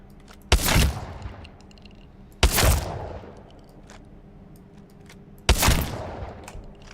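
An auto shotgun fires three heavy blasts in Apex Legends, spaced a couple of seconds apart, each a sharp loud boom with a rumbling tail, heard over quiet game ambience.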